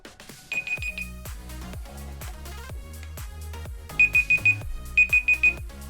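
A bright electronic timer alarm beeps in quick bursts of four, repeating over a steady rhythmic backing tune.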